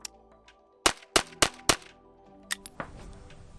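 A PSA AKV9, a 9mm AK-pattern rifle, fires outdoors: four sharp shots in quick succession, then two more after a short pause, each one loud and close, with metallic ringing in between.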